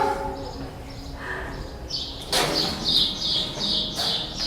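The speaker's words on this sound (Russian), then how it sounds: "Такие птички громкие." Birds chirp in quick repeated bursts nearby at the Temple of Apollo in Didyma, Turkey, bright and fairly loud, with a brief flutter of wings in the background.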